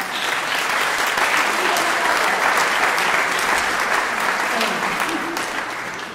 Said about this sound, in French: je voulais quand même qu'on applaudisse le courage de Claude Barbin